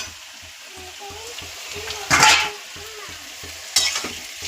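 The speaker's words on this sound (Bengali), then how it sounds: "এবার আমি চিকেনটা দিয়ে দেবো।" Chicken pieces go into a pan of fried onions and sizzle steadily, with two louder bursts of hissing and scraping as the mixture is stirred, close by and without speech.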